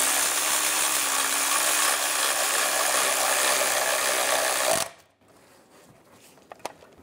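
A ratchet wrench snugs down a transmission mount bracket bolt on a 2008-2017 Buick Enclave 3.6L V6, giving a steady, close, continuous clicking whir for about five seconds before cutting out to near silence with a few faint taps.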